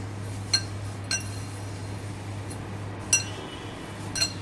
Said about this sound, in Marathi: मुगाची डाळ, तुरीची डाळ, मसूरची डाळ आणि हे छान मिक्स करून घेऊया.